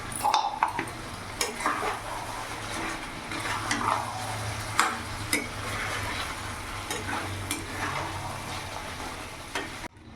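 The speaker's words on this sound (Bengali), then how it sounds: "এবার এখানে যে আমি পেঁয়াজটাকে ভেজে বেটেছি, সেই পেঁয়াজ বাটাটা দিয়ে দেবো।" Fried onion paste goes into a pan for chicken bhuna masala and is stirred and fried, a close sizzle broken by repeated spatula scrapes and light clinks against the pan.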